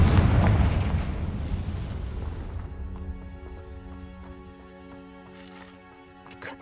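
A big explosion from a Bombarda or Confringo spell in a wizarding video game booms loudly at the start, then a long rumbling tail fades into a quiet tonal backdrop of game music.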